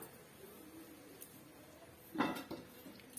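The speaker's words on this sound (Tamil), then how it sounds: "இப்போ இது ஒரு மூடி போட்டு நம்ம மூடி வச்சிடலாம்" A lid set down onto a cooking pot while egg rice cooks, a short clattering metallic contact near the close with a couple of smaller knocks after it, above a quiet kitchen background.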